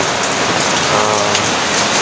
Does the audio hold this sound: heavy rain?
yes